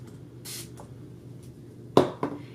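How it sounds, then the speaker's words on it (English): Fix Plus setting spray misted onto a makeup brush, with a short hiss early on and then two sharper, louder spritzes near the end, close and quiet otherwise. "I'm gonna spray this brush with some Fix Plus and see what that does"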